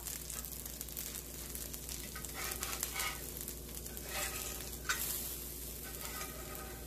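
A Kerala-style dosa cooks on a pan with oil poured over it, giving a faint steady sizzle with occasional light scraping sounds.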